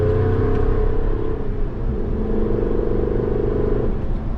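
A deep, steady V8 engine rumble from a Toyota Tundra 5.7 pickup with a Corsa performance exhaust, loud and close, holding a low throbbing tone throughout with no voices.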